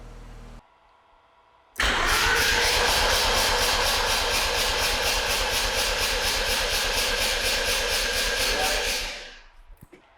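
A Mazda RX8 rotary engine starts and then idles loudly and steadily up close as it warms, its pulsing drone holding for several seconds before fading near the end.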